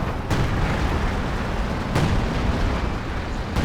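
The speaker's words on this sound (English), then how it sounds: "major artillery's coming in out the back" Artillery shells land in a Company of Heroes 2 battle: repeated deep booming impacts, two or three sharp bursts over a continuous low rumble, loud and close.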